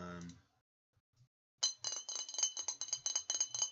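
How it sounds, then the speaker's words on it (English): A glass bottle clinks and rattles in a rapid run of bright, close taps after a voice briefly speaks and a short quiet pause. "is that glass? A glass bottle."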